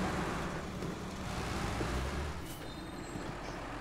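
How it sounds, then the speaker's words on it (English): A Soviet-style military truck, the Mastodon in the game SnowRunner, runs with a steady low engine rumble and mechanical noise, heard alone without talk at moderate, constant loudness. "It's a Soviet military truck."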